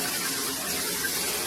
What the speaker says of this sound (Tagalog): Hugasan lang natin ang bathtub para walang dumi.